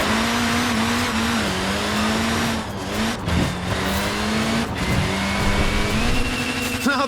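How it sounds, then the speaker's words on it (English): A Mini in the Forza Horizon 4 racing game squeals its small tyres while the engine drones loudly and steadily, pitch rising and dipping through several minutes-long-feeling slides across seven seconds, with no voices. "Look at that, laying down some rubber there."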